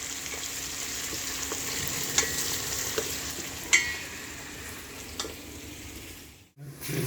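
Biryani stirs and fries in a pot on an open balcony, a continuous bright sizzle with occasional scraping clinks of the spoon against the pot, fairly close, ending in a short pause.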